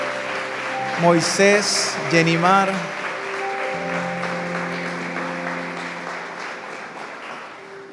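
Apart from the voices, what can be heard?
church congregation applauding a couple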